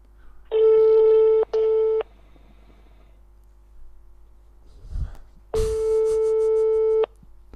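A telephone ringback tone on an outgoing call, two close, loud steady electronic beeps, a pause with a soft rustle, then a longer third beep.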